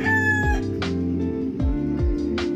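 Pet chickens and a rooster in a backyard coop, with a rooster crowing loudly and repeatedly over steady clucking and fowl chatter, close and continuous with no talking.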